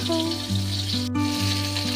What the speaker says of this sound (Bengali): মাছগুলো ভাজতে দিয়ে দিয়েছে,